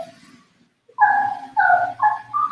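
A dog whines and whimpers in several short, high-pitched bursts during a grooming session, fairly close and clear after a quiet start, with faint handling noise beneath.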